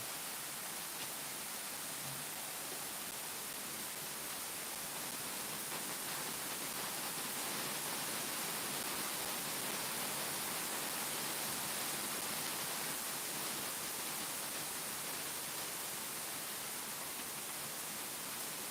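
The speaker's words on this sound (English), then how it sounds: "Here we are listening to rain" Heavy rain pours down steadily, a dense, constant hiss with no pauses and no voices.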